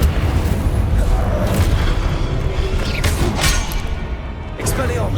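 Spell blasts in Hogwarts Legacy combat come as loud booming thuds and crackling bursts over a continuous rumbling bed, with several sharp hits punching through.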